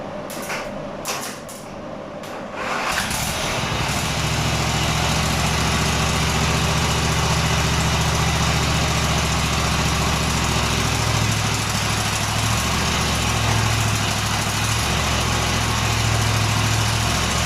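The small engine of a beer-run vehicle idles with a steady, loud buzzing drone, then settles into a heavier, slightly uneven note after being put in gear.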